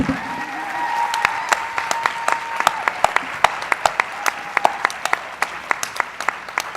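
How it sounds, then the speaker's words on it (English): Pitch contestants receive audience applause: a steady crowd clapping with individual sharp claps standing out close by, and a few whoops early on. "let's just give them a big round of applause"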